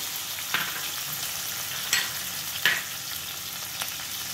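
Curry leaves and peanuts frying in hot oil for kande pohe, a steady close sizzle with a few sharp pops and crackles and faint stirring scrapes.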